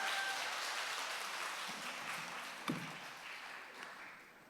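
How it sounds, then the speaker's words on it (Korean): A Korean church congregation at a Friday prayer meeting applauds a young member, soft, distant clapping that forms a continuous wash, with one sharp knock partway through and a gradual fade. "우리 지훈이에게 한번 큰 박수 부탁드립니다"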